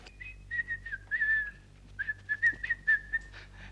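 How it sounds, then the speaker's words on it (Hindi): A melodic whistle through the lips, rising and falling in short phrases with a brief pause midway, fairly close and clear over a low hum. "बड़ी सीटियां बज रही हैं तुम्हारे मुंह से"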